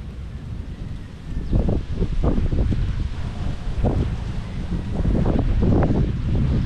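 Gusty wind buffets the microphone in low rumbling surges, rising and falling throughout, loud and close with no other clear sounds.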